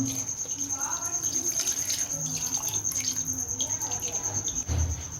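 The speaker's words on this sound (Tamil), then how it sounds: "நம்ம கறி வேக வச்சிருந்த தண்ணியை இதில் சேர்த்துக்கலாம்" Beef cooking water is poured into a pan of curry gravy, a steady trickling splash that runs for several seconds, close and fairly loud, ending with a soft bump.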